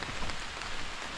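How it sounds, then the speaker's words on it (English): Rain falling on the Appalachian Trail, a brief steady hiss of drops pattering on surfaces nearby, with no voices. "it's still raining"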